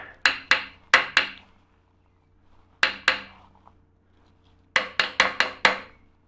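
A hammer taps a metal plate clamped down on a bench, giving sharp ringing knocks in quick bursts of four, then one, then five, close and clear with quiet gaps between.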